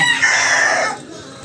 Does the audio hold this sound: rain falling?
no